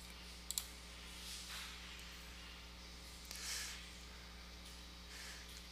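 A couple of faint, sharp computer mouse clicks over a low steady hum while someone navigates a Padlet web page, mostly quiet between the clicks.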